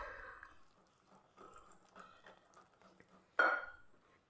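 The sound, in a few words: pouring water into maida flour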